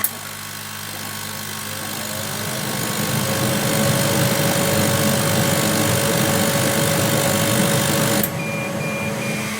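A diode laser engraver cuts test lines at varying power, giving a continuous whirring mechanical hum with a thin steady tone that builds slightly, then drops away sharply near the end, leaving a quieter fan-like hiss.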